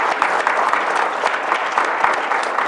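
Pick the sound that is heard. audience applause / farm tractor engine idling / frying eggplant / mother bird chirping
audience applause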